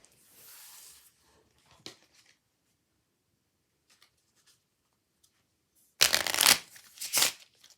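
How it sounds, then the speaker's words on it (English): A deck of playing cards being shuffled during a magic trick demonstration, with a short riffle early on and then two loud, close, crisp bursts of shuffling near the end, separated by silence. "So, I'll have Tyler shuffle the cards once more."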